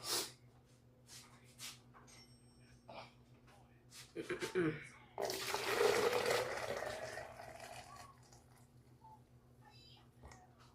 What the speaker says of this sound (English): let's go ahead and just pour our hot water first